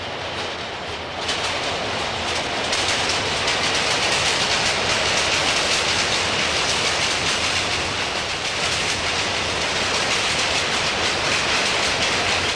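A freight train rolls past on the track, with a loud, steady, close rumble of wheels and cars that swells after the first second and holds through the clip.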